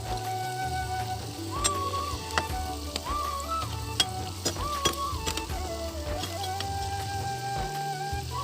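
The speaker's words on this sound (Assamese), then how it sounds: "তেল গৰম হৈ গৈছে, এতিয়া এইখিনি দি দিওঁ।" Raw banana pieces frying in hot oil at home, a steady close sizzle with scattered ticks and pops, with clinking from stirring and no talk.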